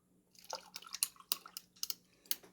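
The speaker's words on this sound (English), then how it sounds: "we will go ahead and pour in some orange juice" Orange juice is poured over ice into a small blender cup, giving sharp irregular clinks and splashes that are quiet and close, with no voices.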